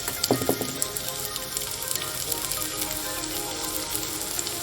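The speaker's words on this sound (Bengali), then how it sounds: "আলুটা একটু ভেজে নেব। আলুটা ভাজা হচ্ছে" Potatoes frying in a pan for a bottle gourd curry give a steady, close crackling sizzle throughout, with a few louder pops and clatters near the start and no talking.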